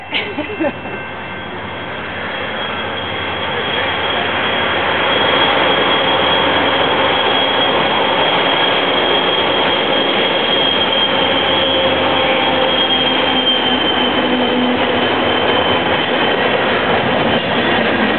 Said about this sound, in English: we're cleaning out the paint sprayer.